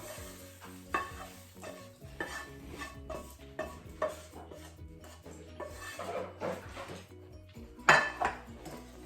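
Fish being stirred and turned through spinach pittu in a pan, with steady scraping and clinking of a utensil against the pan and a soft sizzle underneath, close and moderately loud.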